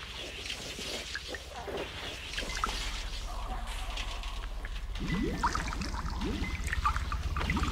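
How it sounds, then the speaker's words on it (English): Water bubbling and trickling in the horror video game Among the Sleep, a faint continuous gurgle with a low background drone and soft movement sounds. "I don't like that bubbling noise."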